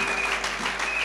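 A church congregation claps in a short, dense burst of applause, steady and fairly close, filling the room evenly throughout.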